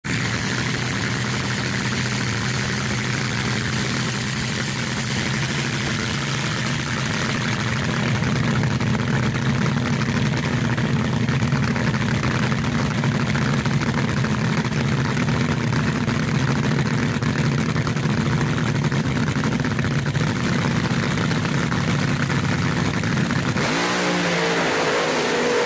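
Top Fuel drag racing car in nostalgia-class racing on a qualifying pass, a loud, steady engine roar that holds for over twenty seconds and then drops away sharply near the end.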